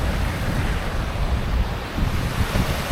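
A waterfall and mountain torrent in Iceland's Westfjords, a loud, steady, close roar of rushing water that fills every moment, with no voices.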